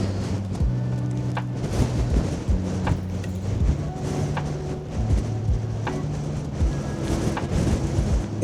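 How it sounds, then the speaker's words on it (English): Strong wind buffets the microphone outdoors on a windy day of horse photography in Manchester, producing loud, uneven low rumbling gusts that pulse throughout without pause. "it is very windy here"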